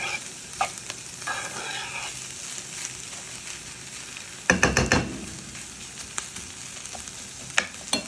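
A utensil scrapes and stirs a roux for borscht through a sizzling pan, the frying hiss running steadily with a burst of louder scraping midway.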